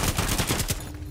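Rapid sniper gunfire in Rainbow Six Siege, a dense burst of close, loud shots cracking one after another for about a second, then fading into quieter game noise.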